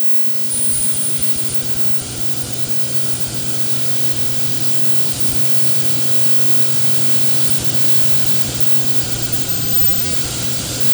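A Covington ultrasonic drill bores a hole through rock, giving a steady, unbroken machine drone with a thin high whine on top that holds level and close throughout.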